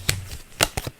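Tarot cards being searched through and shuffled up close, a few crisp riffling bursts with short pauses between them.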